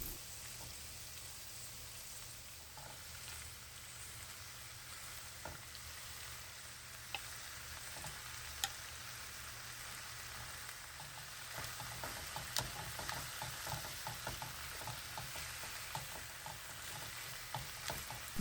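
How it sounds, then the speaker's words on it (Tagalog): Peppercorns sauté in a pan while braised pork leg is prepared, giving a steady, close sizzle and crackle throughout with occasional stirring scrapes and light pops. "Isutay lang natin to hanggang sa lumabas ang aroma ng peppercorns."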